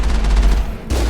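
Loud, continuous gunfire in the Mass Effect video game, a dense booming fusillade that cuts out briefly and then resumes.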